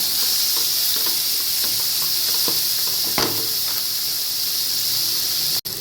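Onions and tomatoes sauté in oil, giving a steady, close sizzling hiss with faint stirring taps throughout.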